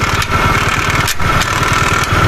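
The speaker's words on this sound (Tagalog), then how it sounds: "Ito tahimik pa makina niya guys" A motorcycle engine, a cheap junk-shop bike, idles steadily and loudly up close, a continuous low rumbling putter with no voices.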